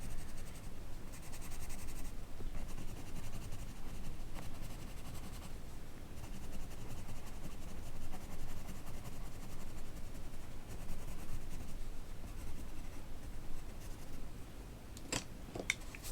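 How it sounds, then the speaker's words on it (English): A white colouring pencil is rubbed lightly over paper to blend colours on a drawing of a crystal, a soft, steady scratching that is close and quiet and continues throughout with only brief pauses. "white pencil, on those bits where I do want really white, just go over those to blend all the colours in together"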